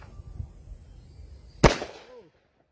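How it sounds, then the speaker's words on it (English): A single sharp .357 Magnum shot from a Taurus 605 polymer revolver fired into a concealed Level IIIA ballistic vest during outdoor field testing, one loud crack that rings out and fades quickly after a quiet lead-in. "itry natin ang 357 Magnum gamit itong Taurus 605 polymer"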